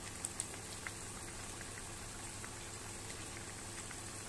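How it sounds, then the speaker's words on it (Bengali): Fish curry gravy boiling in a pot makes a steady, soft bubbling patter with scattered small pops, low in level and continuous, no speech. "ঝোলটা আমার ফুটে গেছে"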